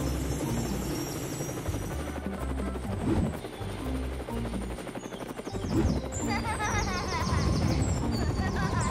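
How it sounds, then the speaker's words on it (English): A cartoon helicopter in a children's dinosaur rescue game whirs with a continuous rapid rotor chop, mixed with busy game sound effects and chirps throughout. "Let's board to the helicopter."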